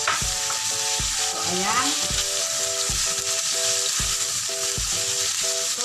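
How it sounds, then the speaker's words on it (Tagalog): Ground pork and French beans fry loudly in a pan while being stirred, the constant sizzle broken by regular scraping strokes about twice a second, with a brief spoken remark over it. "So, iluluto lang natin siya habang hinahalo doon sa mag-iba yung kanyang kulay."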